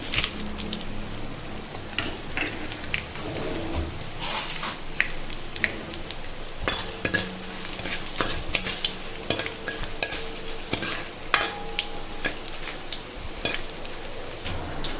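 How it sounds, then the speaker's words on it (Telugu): Mustard seeds crackle and spatter in hot oil while dried chillies fry for rasam, a dense constant sizzle studded with sharp pops and occasional spoon clinks against the pan. "ఇలా ఆవాలు చిట్టుపట్టలు ఆడగానే కొన్ని అయితే ఎండుమిరపకాయలు వేసుకున్నాము"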